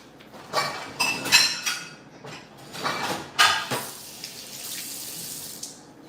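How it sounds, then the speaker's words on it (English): Water from a faucet runs and splashes into a container for a smoothie amid a few clinks of dishes and utensils, moderately close with uneven surges, and no voices. "And then I'm gonna add a little bit of water to this."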